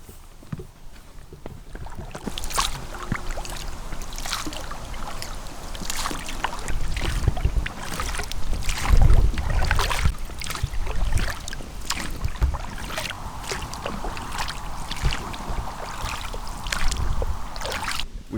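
Oars work a big inflatable raft along a sunny river with a light breeze, each stroke a splashing dip and swish repeating at a steady rowing rhythm over water and faint wind noise.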